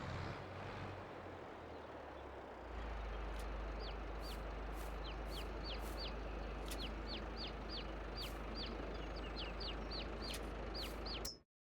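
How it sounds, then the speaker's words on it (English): Chickens in the farming game Farming Simulator 22 give a steady stream of short, bright clucks and calls over a constant low droning hum, continuing at an even pace before cutting off abruptly. "I need to move these chickens, the grown-up chickens, out."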